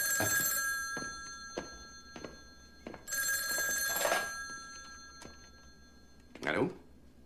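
A telephone in a French-dubbed action film rings in two long bursts, the bell loud and close, with scattered thumps and a short voice at the end.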